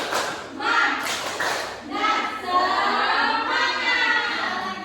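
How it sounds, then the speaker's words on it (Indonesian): A group of children in a classroom claps and chants together in a rhythmic pattern, bursts of clapping mixed with loud voices at close range. "Di sini kita mau tepuk semangat, ayo. Tepuk semangat."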